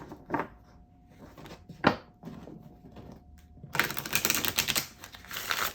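Tarot cards are handled with a few crisp taps and slides, then a quick, dense riffle of shuffling close by.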